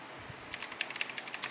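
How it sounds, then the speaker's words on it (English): A computer keyboard clatters in a quick burst of loud, close keystrokes, about a dozen sharp clicks in the second half after a faint low thump. "it's so loud, my fucking keyboard"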